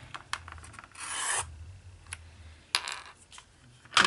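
Paper being cut on a mini alphabet punch board, a few close, brief rasping scrapes with small clicks and taps between them, no voices present.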